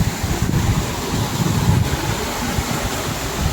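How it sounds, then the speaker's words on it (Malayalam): Cold wind gusts across the viewpoint at Thusharagiri Waterfalls in Kozhikode, a steady, rough, rumbling buffet with low-end wind noise on the microphone that persists throughout without speech. "നല്ല തണുത്ത കാറ്റുണ്ട്."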